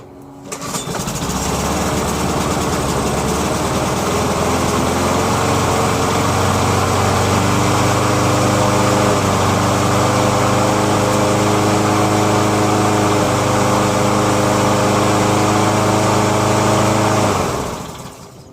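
A White Outdoor Products push lawn mower engine starts and runs at a steady, loud, close drone for about sixteen seconds, its pitch wavering slightly, then cuts off, with no talking.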